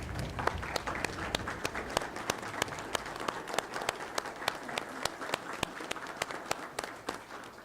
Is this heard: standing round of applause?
yes